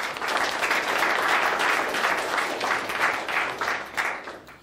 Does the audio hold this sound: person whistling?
no